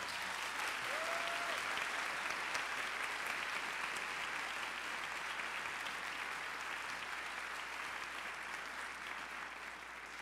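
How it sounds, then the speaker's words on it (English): Sustained applause from a large audience at a high school winter concert, steady and dense clapping filling the whole stretch and easing off slightly near the end. "Can we please give him a round of applause?"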